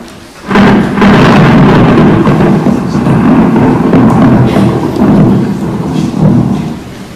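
Heavy thunder rolls loudly and continuously, a deep rumbling that swells and lingers, with a faint hiss like rain underneath.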